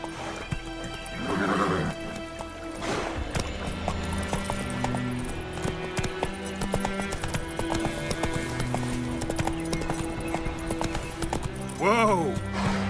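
Roach, a horse in the video game Witcher 3, gallops with steady clip-clop hoofbeats and whinnies loudly near the start and again near the end, all under continuous game music and voices speaking.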